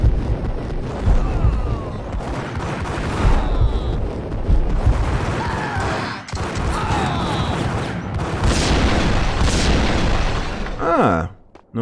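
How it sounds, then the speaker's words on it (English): Explosions and gunfire from the Max Payne 1 shooter game roll on as a dense, loud, continuous barrage of booms and crackling blasts for about twelve seconds, with a brief dip midway and a sharp drop at the end, while voices mix into the din. "Nou doen die ook exploderen."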